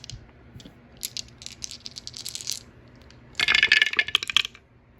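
Dice rattling and clattering during a Global War 1936 war board game, with a few scattered clicks followed by a louder, dense burst of tumbling dice on a hard surface.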